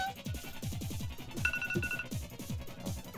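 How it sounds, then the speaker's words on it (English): A phone alarm rings during Sonic Heroes gameplay, a repeating electronic tone pattern over rapid, busy game music and effects, fairly loud and steady throughout. "Damn phone alarm."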